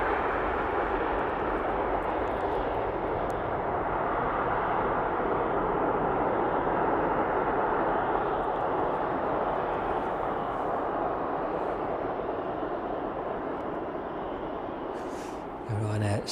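A Boeing 777 on approach to East Midlands Airport makes a steady, loud jet roar that holds evenly throughout, as though the airliner is passing fairly close overhead. A brief extra noise comes in near the end.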